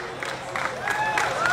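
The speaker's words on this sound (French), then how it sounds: "On applaudit." Crowd applause welcoming a federal minister at an opening speech event, a soft diffuse patter of many hands in a hall, brief and moderately loud, with voices mixed in.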